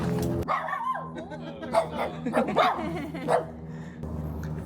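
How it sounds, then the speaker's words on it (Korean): Several dogs bark repeatedly near a house during a trip to Los Angeles, with sharp, fairly close barks arriving in bursts while people talk over and between them. "강아지들이 본분을 다 하는구만."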